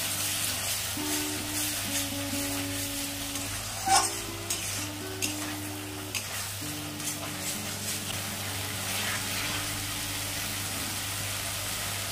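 Ground spice masala fries in oil with tomato for a stingray fish curry, a steady close sizzle running throughout with one brief clatter midway and soft tonal music underneath.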